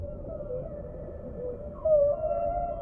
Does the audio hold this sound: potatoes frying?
no